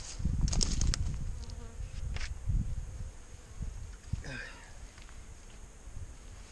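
Bees hum steadily inside an open German-style hive, a dense, close buzz with a few louder passes from individual insects, while a person speaks briefly over it.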